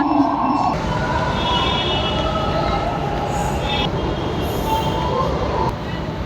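A metro train at a metro station gives a loud, steady rumble that fills the whole stretch, with faint voices mixed into the background.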